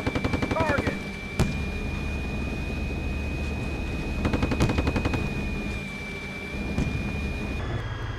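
A tank's coaxial machine gun fires in a video game, in short rapid bursts spread across the scene over a steady mechanical hum, with distant booms and voices at times.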